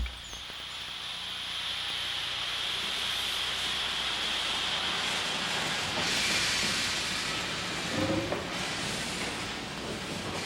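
A continuous loud hiss of steam over a low rumbling engine, steady throughout with a faint rhythmic clatter, close and enveloping.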